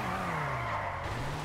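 A car drifts on the handbrake in GTA V, its engine holding a steady drone under a long, continuous tire squeal that stays loud and close throughout.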